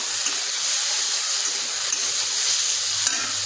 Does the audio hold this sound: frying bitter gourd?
yes